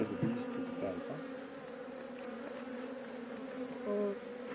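Honey bees buzz around opened beehive frames, a continuous droning hum from many insects close by, swelling briefly louder near the end, with faint background noise and no clear speech.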